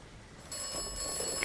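A phone rings in the Atomfall video game, a thin high electronic trill that starts abruptly and holds steady over soft ambience.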